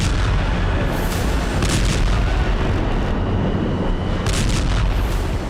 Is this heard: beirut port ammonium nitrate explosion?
yes